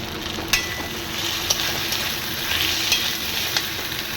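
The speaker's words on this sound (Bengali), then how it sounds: "ভালো করে আবার আমি পাঁচ মিনিটের মতো কষিয়ে নেব টমেটো দিয়ে দিচ্ছি খানিকটা" Spice paste of green chilli being sautéed with tomato in a pan for a Bengali doi katla fish curry: a steady sizzle and frying hiss, with occasional spatula scrapes and taps as it is stirred, close and continuous.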